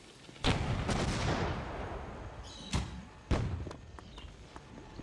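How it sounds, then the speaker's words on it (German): Sharp, booming grenade blasts in the game Jagged Alliance: Back in Action: one loud detonation rings out, then further heavy thuds and impacts follow in quick succession. "Wo ist denn die Granate explodiert?"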